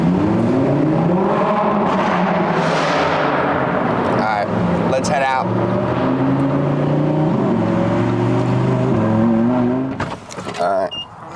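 A Lamborghini engine drones loudly inside a tunnel, its harmonic tones rising and falling through gear changes, with echoing reverberation all around and brief voices speaking over the steady roar.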